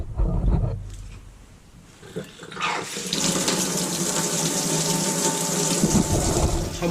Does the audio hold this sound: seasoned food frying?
no